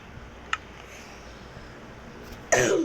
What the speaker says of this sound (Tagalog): May ubo po kasi ako masyado.